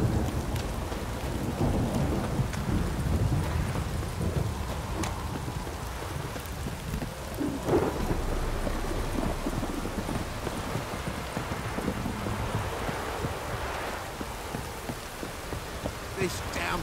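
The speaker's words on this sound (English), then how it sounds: "This downpour's a bastard, it is." Heavy downpour and rolling thunder in the game The Witcher 3, a dense steady hiss of rain with low rumbles underneath and faint hoof clops now and then, continuing throughout.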